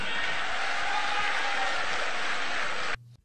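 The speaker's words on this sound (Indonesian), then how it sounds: "Tepuk tangan untuk kedua menteri kita." Applause from a crowd at an Indonesian event honoring two government ministers, a dense steady clapping that fills about three seconds and then cuts off abruptly.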